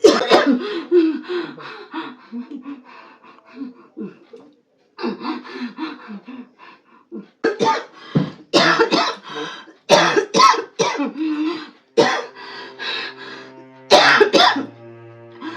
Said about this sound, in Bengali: কাশতে কষ্ট হচ্ছে